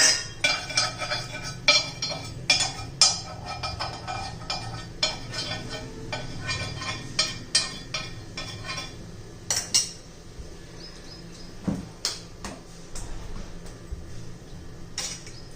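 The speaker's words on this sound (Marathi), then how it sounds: "मी तूप वितळून घेतलं होतं त्यामुळे असं चमच्याने घालून घेते" Melted ghee spooned into a bowl for small semolina chocolate cakes: a run of sharp metal spoon clinks and taps against the dish, close and fairly loud, irregular and repeating throughout without any speech.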